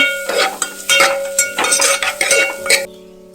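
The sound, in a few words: frying and stirring onions in a pan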